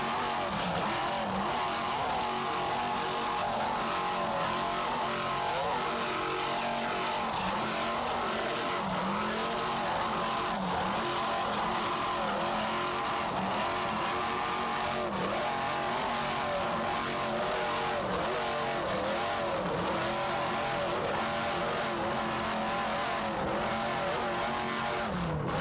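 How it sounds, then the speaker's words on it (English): A racing powerboat with two 700-horsepower United Racing inboard engines roars at full throttle in the 1994 South Padre Island Powerboat Grand Prix, a loud, continuous engine drone with wavering pitch as the revs rise and fall. "Just listen to Mr. Terriers at the throttle with those 2 700 horsepower United Racing inboards."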